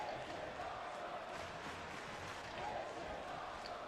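Kansas City arena crowd in a WWE 2K Raw wrestling game, a steady, dense roar of rhythmic chanting that fills the scene at a constant level without breaks.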